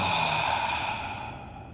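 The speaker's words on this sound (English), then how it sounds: "just take a sweeping breath" A deep breath is taken during a guided meditation, heard as one long, close exhale or sigh that slowly fades over under two seconds.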